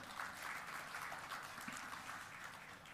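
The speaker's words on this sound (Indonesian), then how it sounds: "tepuk tangan untuk Pak Tito" A crowd applauds Pak Tito at the groundbreaking ceremony for the Jagat Kerthi toll road, a faint, steady wash of distant clapping.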